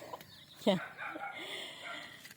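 Chickens and chicks in a farm pen in the province, a short cluck and a few faint peeps and chirps close by over quiet rustling, with someone speaking briefly.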